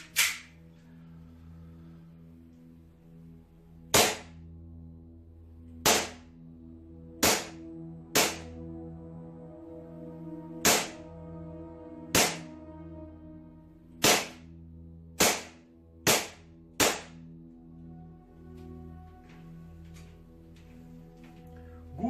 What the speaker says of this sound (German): noch mal 10 Schuss und dann sind wir durch mit dem Schusstest